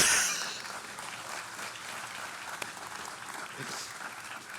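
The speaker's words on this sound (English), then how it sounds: "You can applaud for that." At an opening convocation at Bates College, a large audience breaks into steady, fairly distant applause that holds at an even level for several seconds, with no voices over it.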